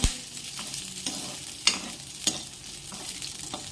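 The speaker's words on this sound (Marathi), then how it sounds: "तो मैं हरी मिर्च पूरी तरह से अच्छे से भून के ले रही हूँ।" Green chillies fry in hot oil with a steady loud sizzle, close up, broken by a few sharp stirring scrapes and clinks in a home kitchen.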